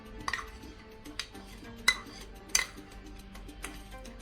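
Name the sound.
stirring fruit salad with yogurt in a bowl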